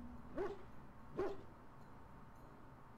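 A Mabari hound in Dragon Age: Origins gives two sharp, close barks about a second apart, then falls quiet against low background ambience.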